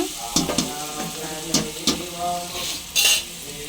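Mutton goes into a pan of frying onions and is stirred, with a steady sizzle under the scrape and clink of a spoon against the metal pan, close and clear.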